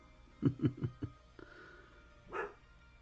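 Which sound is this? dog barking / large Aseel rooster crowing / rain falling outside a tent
dog barking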